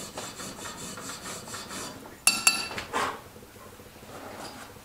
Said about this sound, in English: We're going to work that off with this file and we'll sand it down with some sandpaper